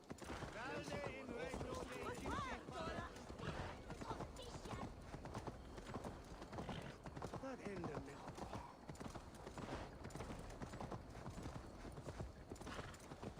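Horse hooves clip-clop steadily in the video game Assassin's Creed Valhalla, a rhythmic trot heard under continuous talking.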